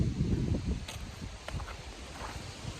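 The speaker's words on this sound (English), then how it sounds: "And it's windy." Gusty wind during Hurricane Lee, with rain, roars and buffets the microphone in loud, rumbling low bursts that continue without a break, and no one speaks.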